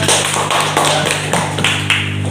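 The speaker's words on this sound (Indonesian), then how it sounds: "Silakan duduk, beri tepuk tangan." A classroom of students claps together on the teacher's cue, loud rhythmic bursts of hand claps arriving in quick waves over a steady low electrical hum.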